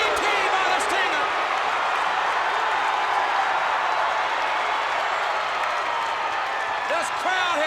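A wrestling arena crowd at WCW Starrcade 1992 roars and cheers steadily during a Sting versus Vader match, a broad sustained din under a commentator's excited talk.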